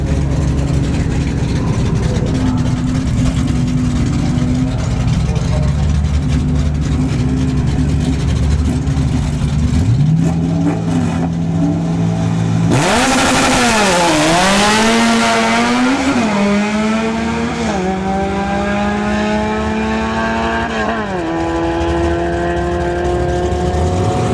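Drag racing cars, including a nitrous Honda Civic, idle and rev loudly at a motorsports park, then one launches with a roaring, rising engine note that climbs through the gears. Heavy, continuous engine noise fills the whole stretch.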